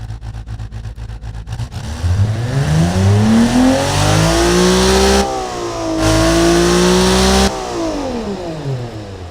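A tuned car engine fitted with mechanical fuel injection revs up hard, climbing and holding high, then dropping and rising again in a second strong rev before settling back toward idle. It is loud and close, with no talking.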